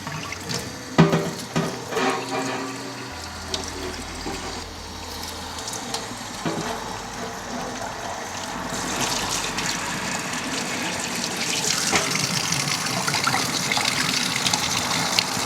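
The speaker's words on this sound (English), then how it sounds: "Now we'll just rinse it out" Fresh water runs and splashes over RC car parts being rinsed in a workshop, opening with a few knocks and clatters before a steady gushing flow builds and stays loud.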